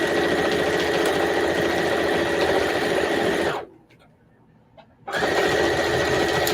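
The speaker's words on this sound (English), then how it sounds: "I'm actually top stitching" A sewing machine top stitching a crazy quilt whirs loudly and steadily, stops abruptly for about a second and a half, then starts again at the same steady pace.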